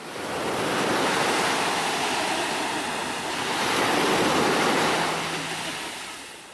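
Sea waves roll onto Kleopatra beach in Alanya as broad, steady surf that swells and eases twice, with wind rumble across the microphone and no voices.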